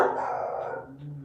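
Dogs bark and howl in one drawn-out, fairly loud outburst close by, sounding bored rather than alarmed.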